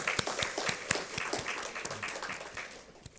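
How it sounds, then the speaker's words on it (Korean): A church congregation gives sparse, scattered hand claps during a Sunday worship service, faint and somewhat distant, with individual claps standing out. "우리 찬송 가운데 임하신 하나님께 감사와 영광의 박수 올려드리겠습니다"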